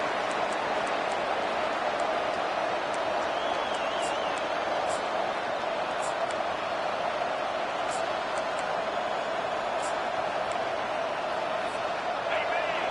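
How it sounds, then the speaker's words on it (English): A football stadium crowd roars loudly and steadily throughout, a dense wash of cheering that never lets up, with a voice talking over it. "This crowd bringing an ear-splitting welcome to their visitors"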